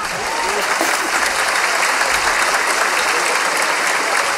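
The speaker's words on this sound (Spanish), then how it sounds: "Creo que están aplaudiendo el esfuerzo, ¿no?" A live studio audience at a comedy talk show breaks into loud, dense applause, sustained evenly throughout with faint voices underneath.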